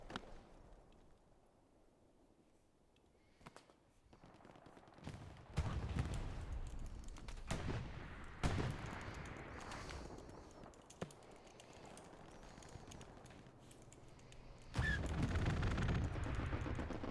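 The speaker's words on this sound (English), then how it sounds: "That was a strafe coming in along this hedge line." Machine-gun fire from an aircraft strafing run sweeps along a hedge line in the World War II shooter Hell Let Loose, heard as scattered bursts and booms at a distance with brief nearer cracks, no talk.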